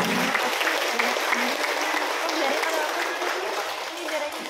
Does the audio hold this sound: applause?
yes